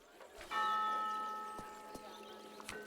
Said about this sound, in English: Ominous church bell.